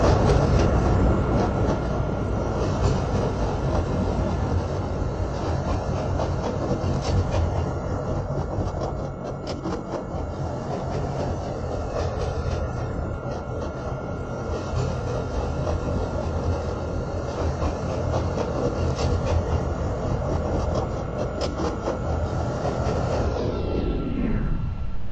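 A simulated CTA Pink Line train in a Roblox game runs along the Chicago Loop, giving a steady, loud rumble of motor and wheels that holds for over twenty seconds before rolling off abruptly at the end.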